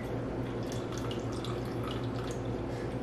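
Milk poured slowly into small cups for homemade fruit-bottom yogurt, heard as a steady, soft trickling and gurgle of liquid close by with no talking.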